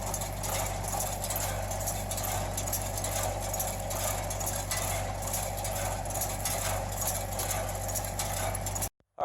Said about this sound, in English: running the tractor, and it's running first gear